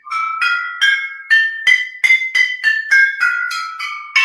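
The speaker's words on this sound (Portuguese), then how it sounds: "E este aqui é um xilofone de vidro, que é com a garrafa cheia de água" Glass xylophone of water-filled bottles struck in a steady sequence of about eleven bright, ringing notes, each with a sharp attack and short shimmering decay, played alone and close.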